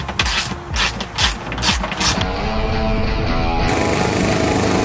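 Ratchet tool loosening the seat stays on an Arrow X6.2 RC car, several quick loud clicking bursts followed by a steady continuous ratcheting whir, close and alone.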